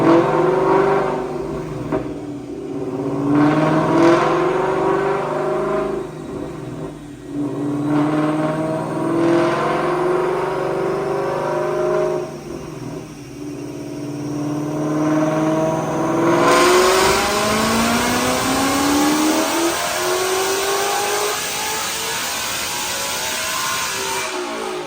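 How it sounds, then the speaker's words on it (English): Manual-transmission 2018 Mustang GT with a Whipple stage 2 supercharger and Kooks headers on a dyno: the engine revs through rising gear pulls, then climbs to a loud, sustained high-rpm roar with supercharger whine before easing off. "Check out this dyno pull."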